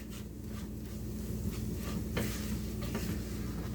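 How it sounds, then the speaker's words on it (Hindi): Flour (maida) is gently fried in a pan over low heat, giving a soft, continuous sizzle with light stirring scrapes, close and steady with no talking. "बस हल्की आंच पे ही इसको थोड़ा सा हम फ्राई कर लेंगे मैदे को"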